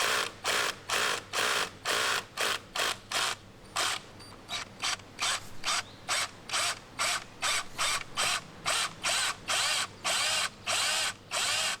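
An SDS drill pulsed while boring fixing holes into brick, giving a loud, rhythmic series of short grinding hammer bursts separated by brief gaps, repeating about twenty times with no talk.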